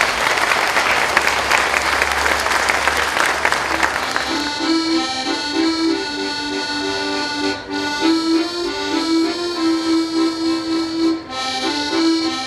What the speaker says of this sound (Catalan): fem-li un fort aplaudiment